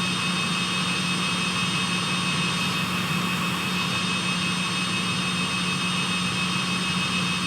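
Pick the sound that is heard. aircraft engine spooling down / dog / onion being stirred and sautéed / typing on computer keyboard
aircraft engine spooling down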